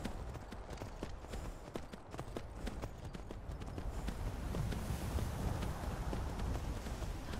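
Horse hooves walk at a steady clip-clop pace, close and continuous, with no talking over the rhythmic footfalls.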